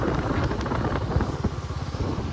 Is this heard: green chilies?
no